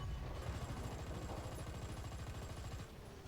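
Rapid automatic gunfire from the War Thunder combat game, a quiet, distant stream of clattering shots that runs continuously and drops slightly near the end.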